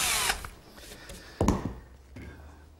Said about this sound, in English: So first I'm going to drill a hole.